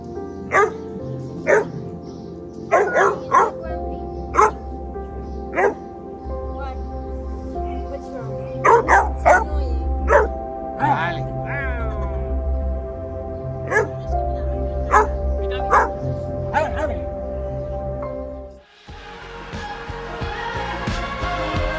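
A dog barks repeatedly in sharp, loud bursts spread across the clip, with some yips and whimpers between them over a low rumbling background, before the sound changes to a different noisy scene near the end.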